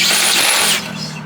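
A Yard Bug riding mower lawn tractor engine cranks and briefly catches on starting fluid with a loud, rough burst, then drops to a lower run after under a second.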